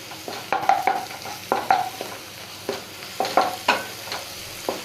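Garlic paste is stirred in a hot pan for a pigeon curry, with a dozen or so distinct spoon scrapes in uneven bursts over a soft, close sizzle and no voices.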